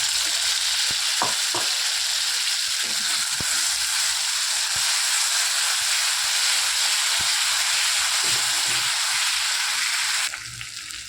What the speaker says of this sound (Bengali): আমার পেঁয়াজ আদা রসুন ভাজা হয়ে গেছে। এখন দেবো আমি টমেটো পেস্ট।